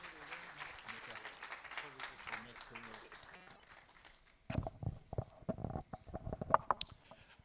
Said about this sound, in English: I think the DG deserves another round of applause.